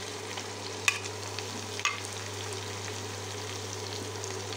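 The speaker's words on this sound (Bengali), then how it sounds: "তেলটা গরম হয়ে গেছে, এখন আম্মু মরিচ পেঁয়াজ কুচিগুলো দিচ্ছে।" Chopped chilies and onions fry in hot oil, a steady close sizzle with an electrical hum beneath and two sharp spoon clinks against the pan.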